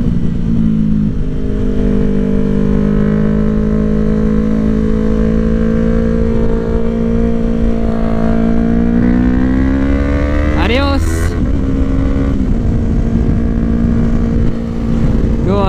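A Ducati Streetfighter on a track during a race against a Nissan GTR, its engine loud and close, droning with a rising whine under acceleration, then a sudden sharp rev and drop in pitch as it brakes.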